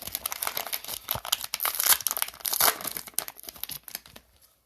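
Crinkly plastic wrapper of a fat pack of basketball trading cards being torn open close up, a dense run of rustling and ripping that builds and then fades away.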